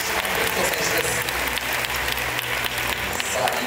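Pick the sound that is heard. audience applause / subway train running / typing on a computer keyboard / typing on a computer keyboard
audience applause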